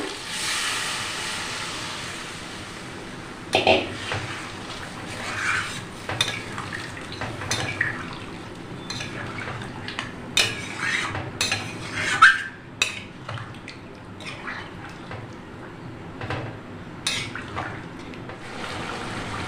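Water goes into chicken cooking in a pan, raising a hissing sizzle, followed by scattered clinks and scrapes of a spoon stirring against the metal, fairly quiet and close.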